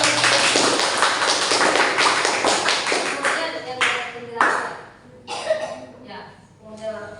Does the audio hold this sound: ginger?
no